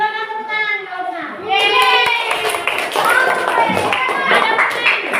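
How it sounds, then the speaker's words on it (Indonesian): A school class claps hands in a burst of sharp, uneven claps that builds to steady applause, with children's voices and talking mixed in. "Silakan tepuk tangan kalau benar."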